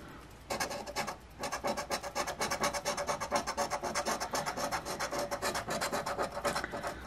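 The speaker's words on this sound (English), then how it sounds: "I don't need to use a special coin with a sharp edge on this ticket because it scratches so easily." A coin rasps rapidly across a soft, easily scratched lottery ticket, a steady run of close scraping strokes that continues for several seconds with no talk.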